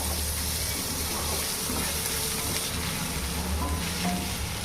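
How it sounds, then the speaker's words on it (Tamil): Onions sauté in a pan over a high flame for a fish curry, a dense, steady sizzle that holds evenly throughout, close up and with no voices. "ஓகே வெங்காயம் வதங்கிட்டே இருக்குது"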